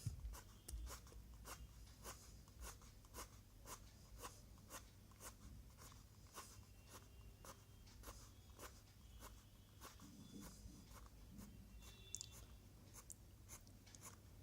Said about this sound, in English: I am now giving strokes of green, tossing the pencil from bottom upwards very patiently